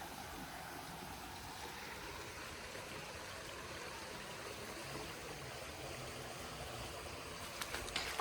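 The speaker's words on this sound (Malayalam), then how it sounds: "ഇവിടെ തോടുണ്ട് കേട്ടോ തോട്ടിൽ വെള്ളം ഉണ്ടെന്നോട്ടെ" Water flows in a steady, soft rush, like a small stream running continuously nearby, with a few faint clicks near the end.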